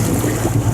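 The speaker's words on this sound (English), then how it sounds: "So there is actually some wind now." Wind buffeting a sailboat motoring toward the entrance of the River Dart off the Devon coast, a steady close rumble of gusts and water noise with no talk over it.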